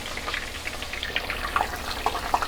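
Thin potato chip slices frying in hot oil, a steady close crackle and bubbling hiss with small popping bursts throughout, no talking.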